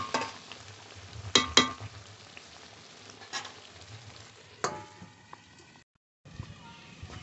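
Mutton kosha stirs and fries in a pan, with soft sizzling and several sharp scraping clatters of a spoon against the pan, near and fairly quiet, and a brief drop to silence near the end.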